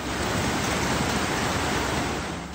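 Floodwater rushes steadily during heavy, unrelenting rain in a flooded part of Aklan, a loud continuous roar with no break or voices.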